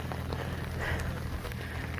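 Steady rain falling outdoors during a walk in Galena, a continuous even patter filling the clip with a few faint scattered sounds mixed in.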